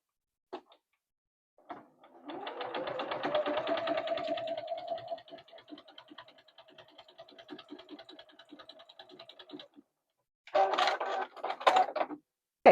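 A sewing machine stitches quilting lines down the middle of quilt blocks and sashing, its rapid steady whir building for a few seconds, then running softer and evenly to a stop, followed by a brief burst of clattering handling.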